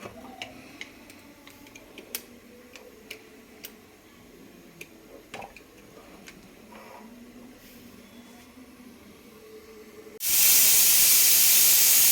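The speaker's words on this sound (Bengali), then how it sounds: "এবারে একটু প্রেশারে দিয়ে দেবো প্রেশার কুকারে ঢেলে নিয়েছি মাটনটা" A pressure cooker holding mutton breaks into a loud, sustained steam hiss near the end, after a stretch of quiet kitchen ticks and light clinks.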